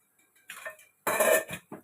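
A metal kadai pan is set down on a stove with a couple of short clanks and scrapes, followed by a brief clink of a spoon as oil is added.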